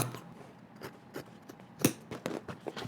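Scissors snipping through the hem of denim jeans, a series of quiet separate crisp cuts and clicks, one louder snip near the middle, in a quiet room.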